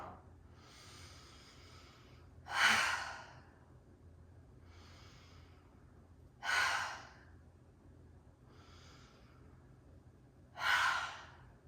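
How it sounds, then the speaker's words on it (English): Three deep, full breaths, each ending in a loud, audible "ha" exhale at even intervals, with quieter inhales between, during a trauma-informed yoga breathing exercise. "take 3 breaths where you are so full on the inhale and an audible ha as you"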